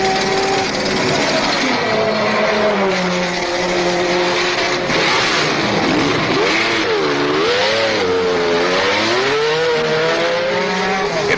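Loud, continuous roar of 1970 Trans Am race cars at Sebring, including Mario Andretti's Ferrari, with engine notes rising and falling through gear changes and several cars overlapping close by.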